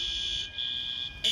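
A fire alarm goes off in a college dorm, a shrill, steady electronic tone that briefly dips and then returns louder.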